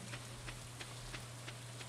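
Rain falls in the farming video game Stardew Valley, a faint steady patter with soft recurring drop ticks over a low constant hum, with no voices.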